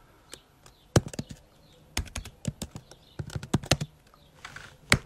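Someone types a word on a computer keyboard, a quick run of crisp close key clicks in uneven bursts with short pauses between them, alone and moderately loud.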